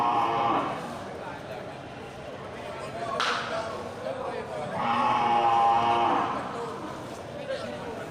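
Young water buffalo, bulls and cows, low mooing at the Gelompang Payung animal market in Aceh, a couple of drawn-out calls rising over steady crowd chatter and people talking nearby.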